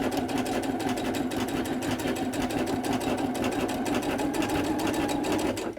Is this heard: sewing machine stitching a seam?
yes